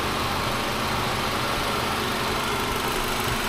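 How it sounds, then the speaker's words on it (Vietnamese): A used car's engine idling smoothly and evenly, a steady close rumble with constant broadband vibration and no voices. "Máy nổ thì êm các bác ạ."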